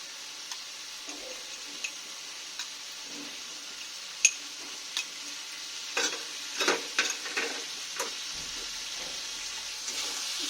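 Poppy seed paste frying with prawns in a pan hisses softly and steadily, broken by a few faint scrapes and taps as a spoon stirs the mixture.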